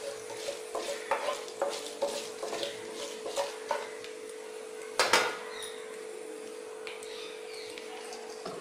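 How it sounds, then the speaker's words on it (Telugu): Mustard seeds splutter and fry in hot oil for an okra fry, with light popping crackles and stirring scrapes over a faint steady hum. One sharper clatter comes midway, then a quieter sizzle. "ఇవి వేగిన తర్వాత ఆవాలు చిప్పట్లాడిన తర్వాత"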